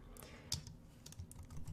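Code being typed on a computer keyboard while building a quote form: quiet, irregular clicking keystrokes in quick succession, close and soft, with no voice over them.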